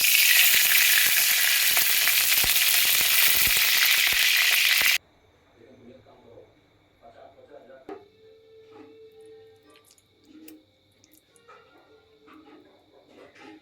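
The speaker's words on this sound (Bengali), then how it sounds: "এবার কড়াইতে বড়াগুলো ভেজে নেব" Cabbage pakoras frying in hot oil in a wok, a loud dense sizzle for the first five seconds that cuts off abruptly, leaving faint clinks and soft stirring noises.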